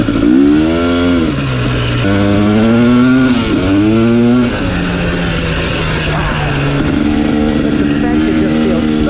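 A 2021 KTM 250 XC TPI two-stroke dirt bike being ridden, its engine rising and falling in pitch as it revs up and down through repeated throttle blips, close and loud, with a voice talking over it.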